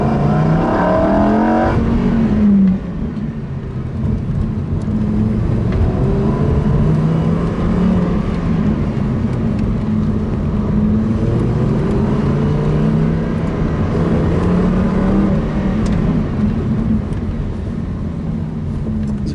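A Lamborghini Huracán Performante accelerates hard around a race track, its engine revving up and down through gear changes in a loud, continuous roar heard from inside the car.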